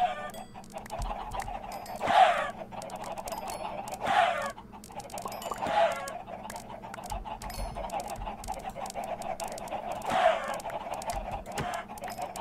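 Chickens in the Minecraft video game give short, loud squawking clucks in four separate bursts spread across quiet background game sound, with no talking.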